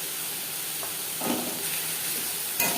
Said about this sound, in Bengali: 3-4 মিনিট মিডিয়াম টু লো ফ্লেমে মশলা কষিয়ে নেব